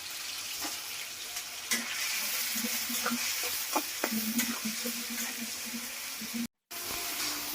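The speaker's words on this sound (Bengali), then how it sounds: "এই কড়াইয়ে আমি মাংসটা ভাইজা নেব" Meat frying in hot oil in a wok gives a steady, dense hiss and crackle, with scattered pops and light clinks, close and continuous.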